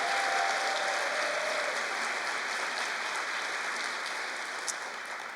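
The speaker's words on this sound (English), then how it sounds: "you can clap for Rip" Steady, dense applause from a large audience fills the room, holding at an even level before easing slightly toward the end.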